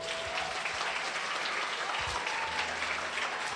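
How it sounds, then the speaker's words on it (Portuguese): A church congregation applauds during a worship service, with sustained, even clapping from a large crowd filling the space at moderate volume and a few faint voices underneath. "Aplauda o Senhor."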